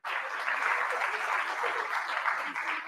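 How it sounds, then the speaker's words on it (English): Audience applause at an annual general meeting, a sustained, even round of clapping from a crowd in a hall, fairly loud and continuous throughout. "A big round of applause,"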